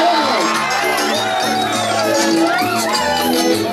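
Audience at a live street performance by a band member cheers and whoops loudly, a dense, continuous crowd roar with shouting voices throughout.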